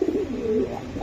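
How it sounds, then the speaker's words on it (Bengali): Racing pigeons give a short, soft coo at close range, a brief throaty rolling call with faint background noise. "দুইটা কবুতর ভাই অনেক সুন্দর"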